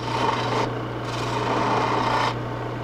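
A small gouge cuts a wooden baluster spinning on a lathe, a continuous rasping scrape over the steady motor hum, rising and easing as the tool moves along the work.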